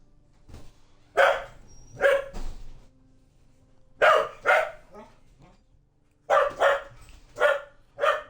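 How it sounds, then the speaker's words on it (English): Several pet dogs bark in sharp, loud bursts, close by, in repeated clusters of two or three barks with short gaps between them. "My dogs have decided to go nuts all of a sudden"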